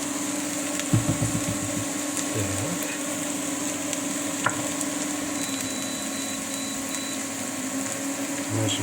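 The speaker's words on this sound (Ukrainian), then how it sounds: "піджаримо до золотистого кольору цибулі" A steady, low sizzle of onions frying in a pan runs throughout, with faint scraping and clinks from stirring.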